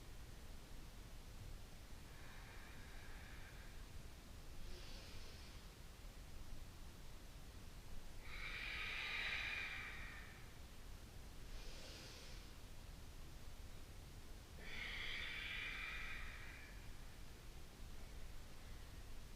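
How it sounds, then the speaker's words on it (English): Slow yoga breathing, a few soft airy inhales and exhales spaced several seconds apart, faint and close against a steady hiss of background noise. "When we're compressing the body, we're exhaling the air out"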